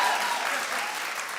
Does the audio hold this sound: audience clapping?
yes